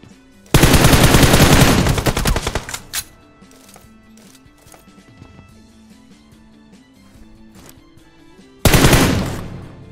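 Loud, close automatic gunfire in the PUBG Mobile battle game comes in two long, dense bursts, with quieter game sounds and music running between them.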